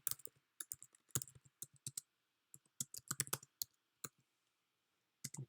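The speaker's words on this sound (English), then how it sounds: "So I'm gonna type this out." Rapid bursts of clicking keystrokes on a computer keyboard while typing out Python code, quiet and close, arriving in irregular clusters separated by short pauses.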